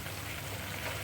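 Masala sizzling in hot oil while cooking methi chicken, a steady, soft crackling hiss that stays even throughout, close by and on its own.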